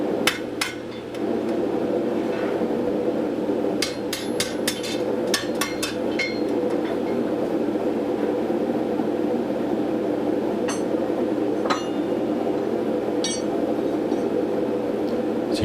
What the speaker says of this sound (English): These are pretty light blows. They're not heavy blows. I'm just trying to affect the very surface of the metal.